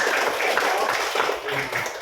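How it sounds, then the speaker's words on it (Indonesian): Applause from a primary-school class for a student group at SDN Malahpar Rumpin, Bogor, a dense steady patter of many small hands clapping for about two seconds with no talk. "Kita berikan tepuk tangan ya."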